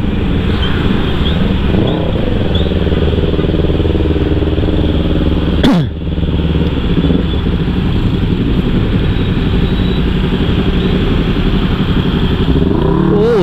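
A small motorcycle weaves through Bali traffic toward evening, its engine droning loudly and steadily with surrounding vehicle noise, a brief sharp burst near the middle.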